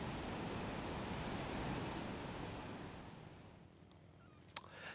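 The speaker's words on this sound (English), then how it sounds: "the greatest noise issues not from election loud hailers, but from one of England's most spectacular waterfalls" Broad, steady roar of rushing water from a large, spectacular waterfall in northern England, loud and continuous before easing slightly toward the end.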